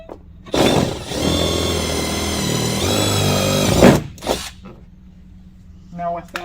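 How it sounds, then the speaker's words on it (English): A power drill whines in one long burst as it bores through a metal fender on a Dodge Ram pickup, then stops, followed by a couple of short clicks and handling noises. "we're just going to match drill the inner hole right here"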